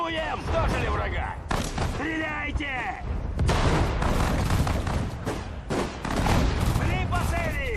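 Artillery fire in the WWII strategy game Sudden Strike 4 rumbles in repeated heavy booms and crackling volleys, dense and loud, layered over busy battle noise with whooshing sweeps.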